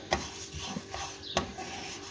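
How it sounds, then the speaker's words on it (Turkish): Sesame seeds are stirred while roasting in a pan, with a soft steady scraping and rubbing and two sharper knocks of the spoon against the pan, close and fairly quiet. "İlk önce susamımı kavuruyorum."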